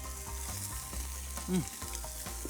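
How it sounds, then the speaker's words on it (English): Bacon fries in a skillet with a steady close sizzle and a brief louder spatter partway through, no voices over it. "Most people want to fry the bacon in a skillet or cook it on the grill."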